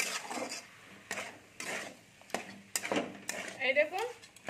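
Banana flower is stirred and sautéed in a pan, with irregular scraping strokes of a utensil against the pan over a soft sizzle, fairly quiet and close.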